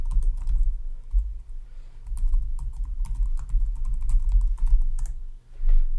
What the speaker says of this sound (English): I type my password correctly.